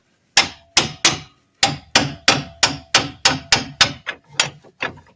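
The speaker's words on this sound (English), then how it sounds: "start tapping at the gear set to pry it out" A steady series of about a dozen hard hammer taps on the axle gear set of a 1998 Ram 1500, close and loud, with a slight ring after each blow and a brief pause early on.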